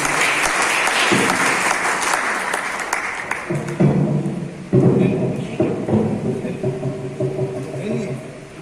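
An audience applauds loudly at a literary evening honoring a senior writer and professor. Dense clapping fills the opening seconds, and a voice then speaks over the fading applause.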